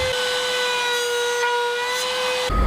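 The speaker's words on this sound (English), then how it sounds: "I'll just use a 3/4 inch straight cutting bit in my router and just cut a little notch." A router fitted with a 3/4 inch straight bit cuts a notch in wood for a sanding beam, a steady high whine with strong harmonics holding for about two and a half seconds, then stopping abruptly.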